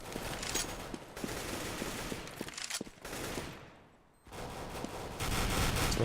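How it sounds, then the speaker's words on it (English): Rapid AK-47 gunfire in Counter-Strike during a competitive 3-on-3 match, with loud bursts and several separate shots packed into the opening seconds, a short drop near the four-second mark, then heavy firing again. "He's taking a lot of AK-47 fire."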